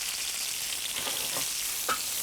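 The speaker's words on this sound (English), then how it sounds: "Now we're going to put those zucchini to saute here, and they saute pretty fast" Zucchini sautéing in a hot pan, a steady bright frying hiss throughout with a few faint stirring clicks, close and even.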